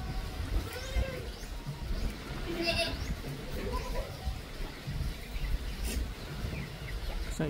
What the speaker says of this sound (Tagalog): Excited naman kambing natin.